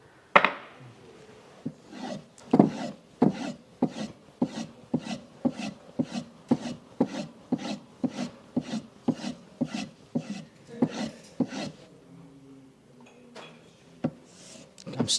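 A blade being hand-sharpened on a coarse sharpening stone, with about twenty rhythmic rasping strokes at an even pace, close and distinct, followed by a pause and a few scattered scrapes.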